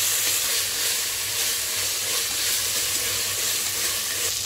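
Ginger, garlic and green coriander paste frying with fenugreek leaves for masala rice sounds as a loud, dense, continuous sizzle with hiss and soft stirring scrapes. No voices are heard.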